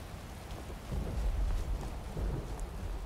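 A Skyrim thunderstorm: low rumbling thunder rolls beneath a continuous patter of rain, swelling louder around the middle with a couple of deeper surges, no voices present.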